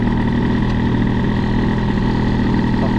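A Booster 50 scooter with a Gilardoni cylinder runs steadily, its small two-stroke engine giving a loud, continuous close-up drone with no voices over it.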